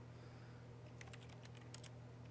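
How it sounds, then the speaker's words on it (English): Keyboard typing sounds from the video game The Stanley Parable: a quick run of light, quiet clicks over a low, steady background hum. "It sounds like a keyboard, that's funny."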